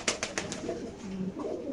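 Racer pigeons in a pigeon farm coo in a few soft, close calls, with short bursts of wing or body noise at the start.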